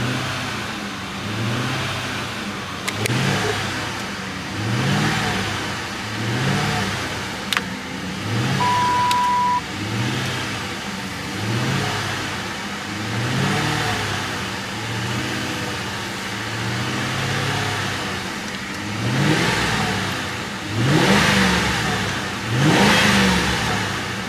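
A Lincoln MKVIII LSC engine idles steadily with repeated rhythmic surges, a few swelling revs rising late, close and continuous without voices.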